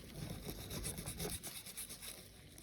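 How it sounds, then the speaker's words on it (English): A burn mark on a laminate bathroom sink is being scrubbed hard with quick back-and-forth rubbing strokes. The sound is faint and gritty, and it stays continuous and close. "you've got to give it a really good scrub."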